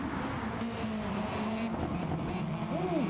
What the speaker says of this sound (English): Corridor with a nice drift around turn 1 there